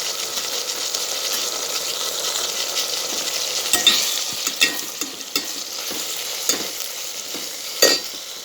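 Moong dal cooks in a pan with tomato and turmeric, a steady bubbling sizzle, then several stirring scrapes and knocks that grow more frequent toward the end.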